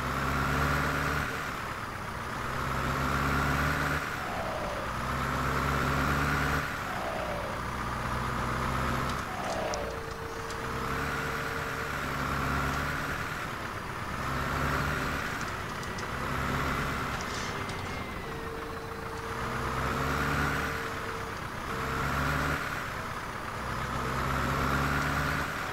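Tractor engine idling and running in a farming game during early winter, a steady low diesel rumble that surges and eases in repeating waves, close and continuous, with a brief tonal whine heard twice.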